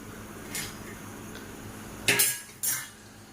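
A few clinks and knocks of a utensil against a pot as fried pakoras go into cooked kadhi, two louder bumps near the end after a softer one early on, close and otherwise quiet.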